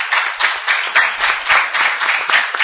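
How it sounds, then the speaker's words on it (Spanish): Steady, loud applause from an audience thanking debate participants, a dense continuous clapping that holds evenly throughout with no talk over it. "Un aplauso entonces para todos."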